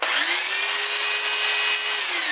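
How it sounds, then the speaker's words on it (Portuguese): A power drill whirs at a constant high pitch, spinning up and holding steady before winding down, loud and close. "Vamos voltar lá para o barulho furadeira"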